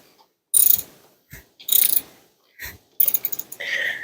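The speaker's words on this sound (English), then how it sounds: "try to keep that socket square on there so it doesn't twist off." A socket wrench ratchets a bolt on a vintage Holiday Rambler camper, giving several short, close clicking bursts separated by brief pauses.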